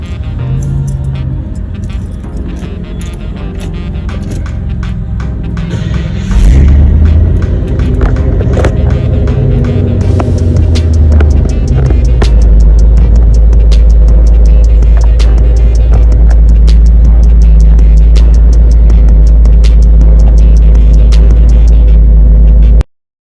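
A 1985 Cadillac Eldorado with new dual exhaust pipes, sitting at a gas station: the engine starts partway through and then runs at a loud, steady, deep idle, close to the microphone, until the sound cuts off abruptly.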